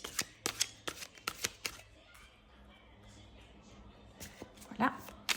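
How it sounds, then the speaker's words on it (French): Tarot cards are shuffled in a quick series of crisp flicks and slaps, then a quieter stretch of soft handling before a few more card snaps as two cards are drawn. "Et là, on va tirer 2 cartes aussi."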